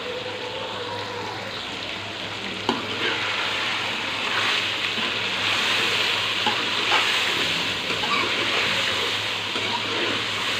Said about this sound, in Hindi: अब अपने टमाटर को ऐड करेंगे और टमाटर के साथ इसको भूनेंगे